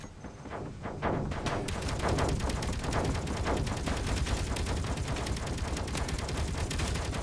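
Automated turret in the space-survival game Space Engineers firing a rapid, unbroken stream of loud gunshots that continue steadily for several seconds, with no talking over it.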